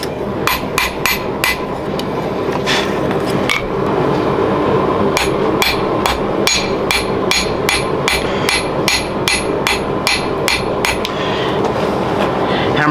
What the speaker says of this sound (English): Hammer blows should overlap,